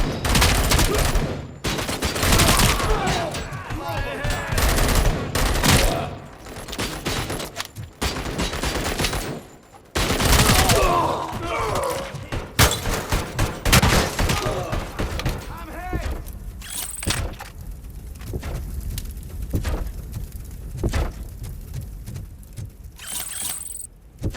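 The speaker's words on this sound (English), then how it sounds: "it's not fair that he's a big robot with a freaking machine gun" Rapid machine gun fire from a big robot enemy in Robocop: Rogue City, loud, dense bursts of gunfire with game effects, interrupted briefly around the tenth second, while a player talks over it.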